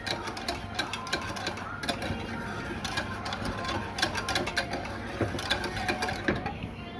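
A whisk beats milk into béchamel sauce, rapid irregular metallic clicks and ticks against the pan, close and busy throughout, with a voice faintly present at times.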